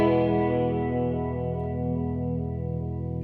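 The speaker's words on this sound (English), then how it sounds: "you can hear a ramping up and slowing down effect, which is pretty cool. Gives you that kind of Leslie speaker type of effect" A Fender effects pedal set to a rotary Leslie-style speaker effect turns a sustained instrument chord into a steady, swirling wash, its modulation slowly changing speed throughout, with no voices present.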